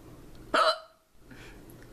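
A woman hiccups indoors while doing her makeup: one sharp, close hiccup, then a softer sound, and the start of another at the end.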